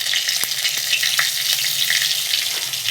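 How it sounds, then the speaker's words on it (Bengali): Turmeric powder and spices sizzling in hot oil in a pan while mustard hilsa is cooked, a loud continuous crackling fry with a few sharp spatula taps, no voices. "তেলের মধ্যে দিয়ে দেবো অল্প একটু হলুদ গুঁড়ো"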